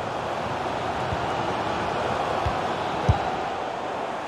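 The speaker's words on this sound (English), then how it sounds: "the fans are driving their team on here" A stadium crowd in FIFA 22 during Olympique de Marseille against Paris Saint-Germain, a dense, steady roar of fans that washes along evenly with a few faint dull thuds, distant-sounding and continuous.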